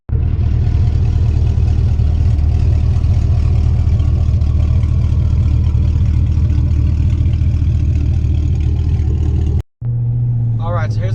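Chevy Silverado pickup with an X-pipe and cherry bomb glass pack exhaust cruising casually, heard from inside with windows up: a steady, deep droning rumble that holds constant, then cuts briefly near the end.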